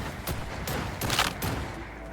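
Bursts of gunfire in Cyberpunk 2077, a few muffled shots thumping in quick succession at moderate distance over a steady background rumble.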